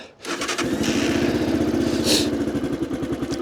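A 2006 Daelim Daystar 125 motorcycle with about 5000 km on it is started in freezing cold: after a brief crank the engine catches and settles into a loud, close, steady rhythmic idle.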